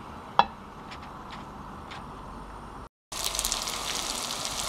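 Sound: deep frying crispy meat-filled cigar rolls in oil

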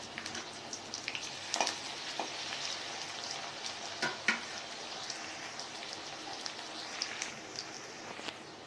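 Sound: frying onions in a pan

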